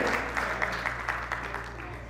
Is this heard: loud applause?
yes